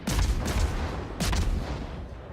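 A Khabarovsk destroyer's guns fire in World of Warships naval combat, two loud booming salvos about a second apart, each trailing off into a rumbling decay.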